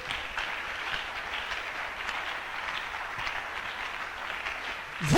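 Church congregation applauding, a steady wash of clapping and cheering that fills the room evenly throughout and is heard from within the crowd.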